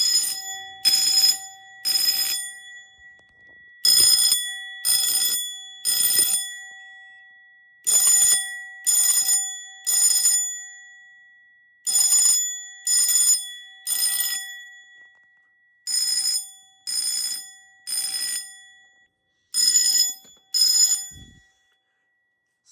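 A fire alarm bell powered through an oversized contactor relay rings loudly and up close in short bursts, grouped in threes with brief pauses between groups, in a repeating temporal pattern.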